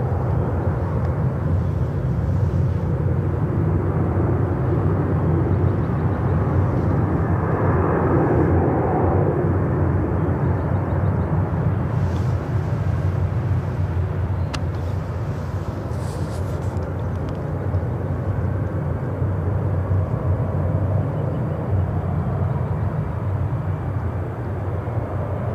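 Heavy jet airliner at Seattle-Tacoma International Airport, a sustained deep engine roar and rumble, steady and fairly distant, holding constant for the whole stretch.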